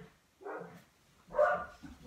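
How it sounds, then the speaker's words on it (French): Dogs bark twice in the distance inside a home, two short muffled barks a second apart, faint and slightly distant. "Je suis désolée pour les chiens, vous devez sûrement les entendre"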